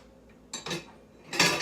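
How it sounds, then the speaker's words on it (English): Whisk scraping and clinking against a pan while stirring a sauce for ginger chicken, two short bursts of metallic rattling close by with no talk. "I'm just going to now add this into the sauce, and I've just been whisking it as I've been making it"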